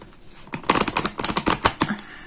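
Thick, rigid oracle cards being shuffled by hand, giving a quick run of crisp, close clicking and slapping as the stiff cards drop in small clumps.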